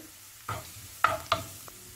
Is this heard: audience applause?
no